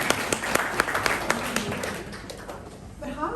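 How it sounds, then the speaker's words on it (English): An audience at a pub talk on stopping violence against women claps steadily for a few seconds, the applause thinning toward the end as a voice begins. "You should give yourselves a round of applause."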